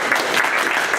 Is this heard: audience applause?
yes